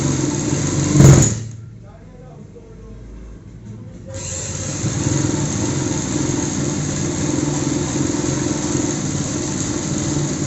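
A sewing machine runs steadily, stitching a belt into the waist seam of a child's frock. After a short burst and a brief pause, a continuous, fairly loud motor whir carries on to the end.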